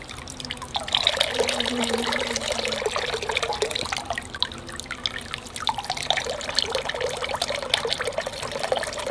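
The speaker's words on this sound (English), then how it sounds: "So you want to try to drain as much out of this as you can, because this is your wax right here" Melted beeswax drains and trickles from a strainer in a continuous liquid dribble with small drips, close and steady throughout, no talking.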